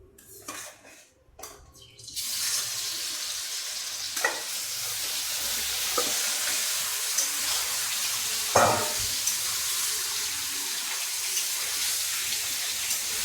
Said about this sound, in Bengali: এবার আমি এই গরম তেলের মধ্যে পনিরটাকে ভাজতে দিয়ে দেবো।